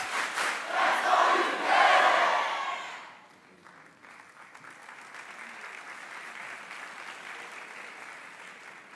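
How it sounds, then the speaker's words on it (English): Graduation ceremony audience at a youth academy clapping in a set rhythmic pattern, a loud burst of claps and crowd noise for about three seconds, then dropping to a lower, steadier murmur of scattered sound. "So 1 clap, 2 claps, 3 claps."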